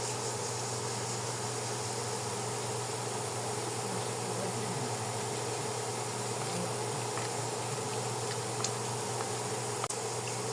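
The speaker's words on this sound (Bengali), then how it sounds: "আর দেখেন এই যে ভালো মতো একটু লাল লাল করে ভেজে নেব।" Boondi frying in hot oil gives a steady, dense hiss and crackle, constant and fairly quiet with occasional faint ticks, with no talking.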